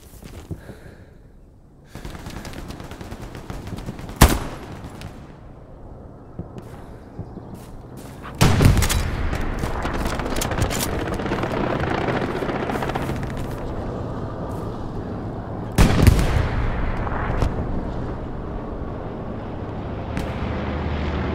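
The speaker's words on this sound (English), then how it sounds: "Suppressive fire!" Gunfire and artillery from the video game Hell Let Loose: a sustained wash of battle noise with sharp loud blasts near 4, 8.5 and 16 seconds, the last two opening into long rumbling roars.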